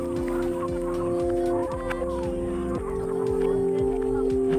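Poultry at a chicken farm give repeated honking, goose-like calls over a steady din of fowl, loud and close, with brief voices mixed in.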